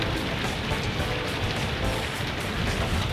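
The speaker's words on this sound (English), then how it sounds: "we're here in the rain" Heavy rain pours down outdoors, a loud, constant wash of drops hitting surfaces with a rough low rumble underneath and no speech.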